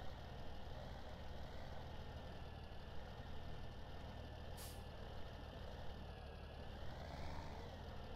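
The engine of a small old tractor in Farming Simulator 17 drones at a steady idle throughout, quiet and continuous, with a brief hiss partway through and no talking.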